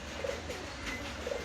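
Pigeons cooing softly nearby, a few low warbling calls over a steady background hum.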